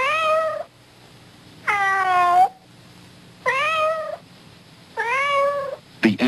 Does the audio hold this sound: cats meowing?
yes